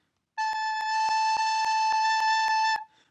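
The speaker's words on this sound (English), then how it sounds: "Next up is A." A single held A on a recorder, a steady breathy tone with strong harmonics, sustained for about two and a half seconds with no talking and soft periodic clicks underneath.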